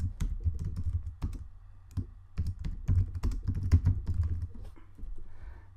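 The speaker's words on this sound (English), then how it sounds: "And I'm just going to type my name in." Keystrokes on a computer keyboard as a name is typed into a text box in Microsoft Visio, an irregular run of close, crisp clicks in short bursts with brief pauses, no voices over it.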